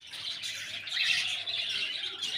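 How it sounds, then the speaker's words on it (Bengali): Budgerigars chirp steadily in a breeding farm holding about a hundred pairs, a dense, continuous chatter of many small birds at moderate distance with no voices. "এটা আমার 100 পেয়ার ছোটো পাখির ব্রিডিং ফার্ম যেটা আমি বানিয়েছি"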